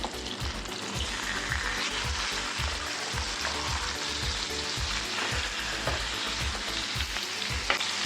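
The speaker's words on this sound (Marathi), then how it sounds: "आता तेल गरम झालेलं आहे। आता आपण सुरमईचे तुकडे आपण टाकून घेऊया।" Surmai fish pieces frying in hot oil give a dense, steady sizzle with a regular low thumping pulse underneath, close and continuous, with no one talking.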